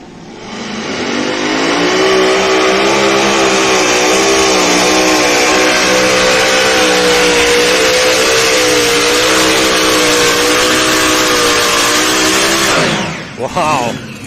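Light modified pulling tractor at a Grand National truck and tractor pull in Canton, Ohio, roaring loud and close through a full pull run, its engine note rising and wavering steadily before cutting off abruptly near the end, with a crowd and announcer underneath.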